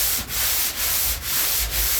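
Epoxy primer being sanded on a car body makes a steady rasping scrape in four even back-and-forth strokes, close and alone.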